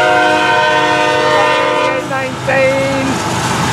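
An FEC freight train passes close by with locomotive 813 as the second engine, its horn sounding a long steady chord over rumbling engines and rolling wheels, with a brief second horn blast near the end.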